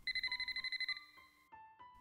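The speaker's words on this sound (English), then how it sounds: "On a mobile phone, technologically advanced enough to pierce our jamming devices." A mobile phone rings with a rapid, evenly pulsed electronic trill, bright repeated tones for about a second, followed by a few sparser melodic beeps, clear and fairly quiet with no talking over it.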